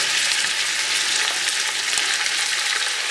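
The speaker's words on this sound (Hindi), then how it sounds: "तो इसको अच्छे से फ्राई कर लें, फ्लेम हाई पर रख लें।" Onions and minced keema fry on a high flame, giving off a dense, steady crackling sizzle, close and continuous with faint stirring and no talking.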